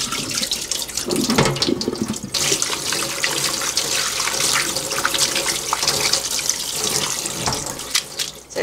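Tap water runs steadily over sliced imported beef bulgogi meat in a sink to rinse out the blood, a loud close continuous splashing stream with a few brief changes in flow and no talk.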